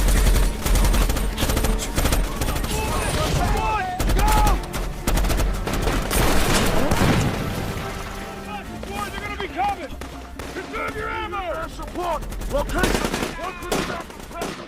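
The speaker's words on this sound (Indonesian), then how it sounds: "rentetan tembakan dari senapan serbu pemberontak" Assault rifle fire from rebels in a war film rattles in rapid bursts and single cracks over a busy, loud mix, with shouting voices throughout and the shooting thinning toward the end.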